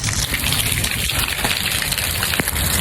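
Rain pours down steadily over a village, a loud, dense gushing wash of water that fills the whole short stretch without a break.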